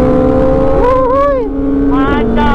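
Overheating car engine pushed hard uphill toward Puncak in heavy traffic, a loud close engine whine that holds steady and then drops, with people talking over it.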